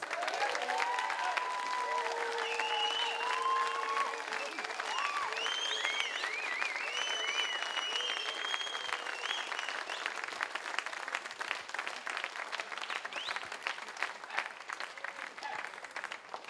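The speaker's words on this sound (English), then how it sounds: "So can we give him another round of applause?" Sustained audience applause fills the room after a taiko drumming performance by a live ensemble in Hawaii, steady and dense throughout, with cheering and a few whistles rising above it and voices talking underneath.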